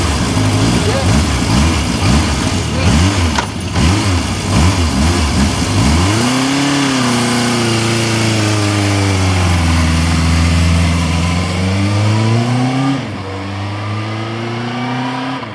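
Classic motorcycle engine started by kickstart and running, first a rapid chugging rhythm, then a steady rumble that rises and falls as the throttle is blipped, loud and close, with a person talking over it.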